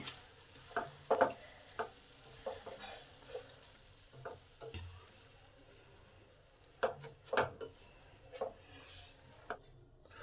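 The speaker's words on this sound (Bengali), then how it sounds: "এবার এটাকে এই মশলার সাথে 2 থেকে 3 মিনিট কষে নেব" Gobindobhog rice being stir-fried with spices in a pan for a muri ghonto, giving a soft, steady sizzle broken by a string of short spatula scrapes and stirring strokes, close by, with no talk.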